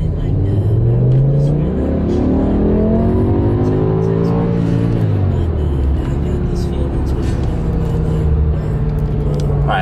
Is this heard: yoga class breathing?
no